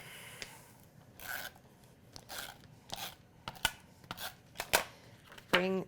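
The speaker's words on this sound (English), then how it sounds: "I'm just going to take my tape runner and close this up" Tape runner applying adhesive while a mini album cover is closed up, several short dry rasping and rubbing strokes in an irregular rhythm, close and fairly quiet.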